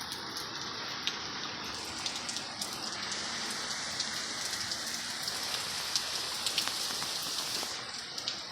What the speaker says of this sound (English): Fucking nasty ass rain.